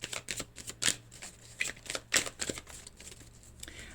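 Tarot cards being shuffled for a reading, heard as close, crisp riffling bursts and soft flicks in an irregular rhythm, fairly quiet and without speech.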